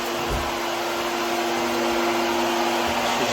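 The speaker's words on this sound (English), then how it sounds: "vacuuming where we worked." A vacuum cleaner cleans up after repairs to a broken water line under a cabin floor, giving a steady, loud, close whine and rushing airflow that holds unchanged throughout.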